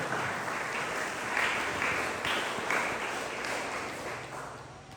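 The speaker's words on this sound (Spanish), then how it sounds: "Denle ese aplauso al Señor" Church congregation applauding, a broad sustained wash of many hands clapping together that swells and slowly fades out, heard from within the room.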